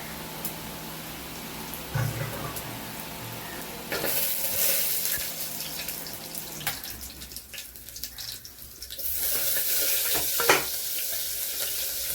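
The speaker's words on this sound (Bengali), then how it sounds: "জিরে, তেজপাতা, রসুনটা ফোড়ন দিয়ে দিলাম, আদাটা ফোড়ন দিয়ে দিলাম।" Cumin seeds, bay leaf, garlic and ginger hit hot oil for a chicken stew, a hissing sizzle that flares loudly in bursts with stirring scrapes between, no talk.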